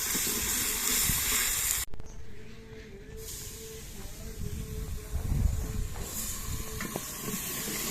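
Water poured into a hot cooking pot of browned tomatoes bursts into a loud hiss that drops suddenly, then continues as a steady sizzling, bubbling simmer close by.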